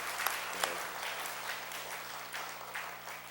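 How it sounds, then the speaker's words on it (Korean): A church congregation applauds at a Sunday service, producing quiet, diffuse clapping heard from a distance in a reverberant hall, steady with a few sharper individual claps. "박수로 축하해 주시기 바랍니다"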